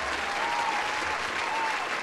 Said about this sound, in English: should we be giving Matthew Santoro a huge round of applause